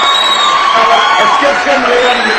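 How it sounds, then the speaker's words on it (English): A large audience claps, cheers and whoops for a speaker being welcomed to the stage at a training foundation event, a loud continuous wall of applause and shouting with some voices mixed in. "Let us all give him a warm clap."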